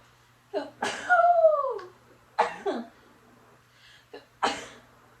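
A sharp, close sneeze bursts out, followed by a few shorter breathy sniffs and throat noises.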